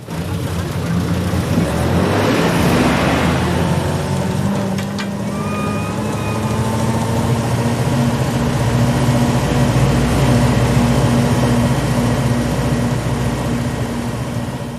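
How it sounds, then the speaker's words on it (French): A truck's engine rumbles steadily as it pulls out of a postwar internment camp, a continuous low drone holding for the whole stretch with a faint whine above. "Le camion a quitté le camp."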